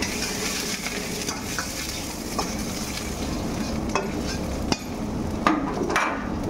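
Garlic and then ginger fry in seasoned hot oil for noodles, giving a continuous close sizzle broken by a few sharp clinks of stirring against the pan.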